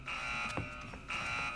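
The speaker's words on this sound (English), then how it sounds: "Where's the alarm?" Alarm buzzer in a video game, a steady electronic drone sounding in two long stretches with a short gap, moderately loud and alone apart from faint soft knocks.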